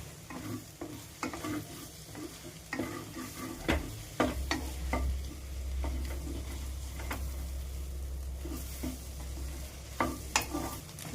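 Egg bhurji frying in a pan while a spoon stirs and scrapes it, soft continuous sizzle under irregular clicks and taps of the utensil against the pan, fairly close and quiet, with no talking.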